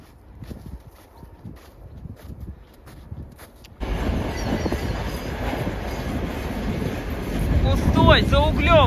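An empty coal train rumbles loudly close by in Ust-Ukhta, Komi Republic, broadband roar rising and intensifying toward the end, with brief metallic squeals; quieter outdoor ambience and faint voices precede it.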